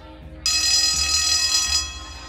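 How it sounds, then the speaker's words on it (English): A school bell rings loudly and continuously for roughly two seconds with a bright metallic, buzzing tone, starting abruptly and then fading out. "Here's the bell. I gotta go."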